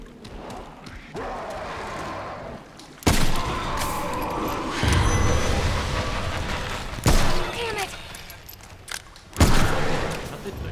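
Loud, close gunshots in the game Remnant from the Ashes boom out in several separate blasts a few seconds apart, each followed by sustained rumbling game noise.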